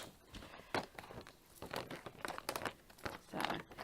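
Scissors cutting and crinkling through a sheet of 220 micron acetate wrap, a run of sharp crackling crunches and snips at close range with no voices.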